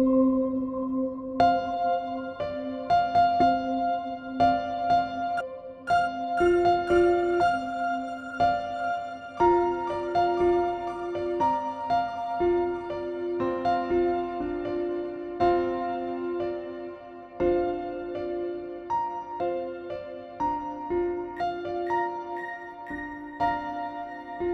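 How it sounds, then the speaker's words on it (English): Layered melodic loops at 120 beats per minute, made in a DAW from a single melody, repeat and drift against one another as they phase. The steady tonal patterns play alone throughout with no talk. "a really quite complex musical output where we get different rhythmic loops layering, shifting, and phasing over the top of each other"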